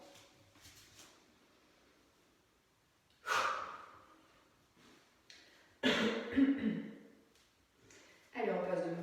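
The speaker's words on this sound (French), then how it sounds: "Et en soufflant, vous ferez votre grande respiration." Deep breaths and forceful exhales come in three loud bursts during a postural exercise class, with quieter breathing and an instructor's voice between them.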